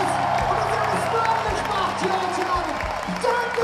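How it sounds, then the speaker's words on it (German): A concert crowd at a band performance in Essen applauds the touring crew, a dense wash of clapping and cheering from a large audience with a little hubbub underneath. "einen großen Applaus für unsere Crew"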